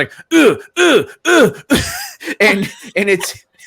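A voice imitates heavy breathing with a series of rhythmic, groaning huffs, about seven loud pulses in quick succession.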